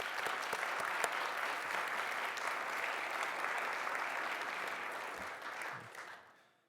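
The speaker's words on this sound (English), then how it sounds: "So let's give them a round of applause." An audience applauds cadets of a color guard at a Veterans Day ceremony: dense, steady clapping from many hands that holds evenly, then tapers off and fades out at the end.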